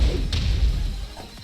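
In the fighting game Tekken 7, Julia's forward 1 4 string lands as a heavy thudding impact with a whooshing swish, loud and close, followed by a short whip-like burst.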